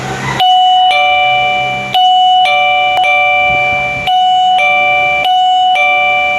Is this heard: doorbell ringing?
yes